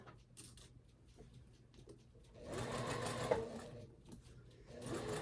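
A sewing machine stitches a summer shirt, running softly in short bursts at first and then whirring louder and steadily in a rapid, even rhythm close by.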